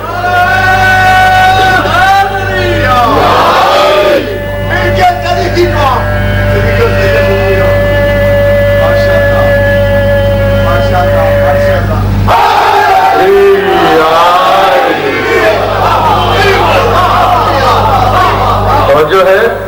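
A large crowd at a Shia religious gathering chants a slogan together in loud, sustained unison, with a leader's amplified call over steady hum and roaring group voices.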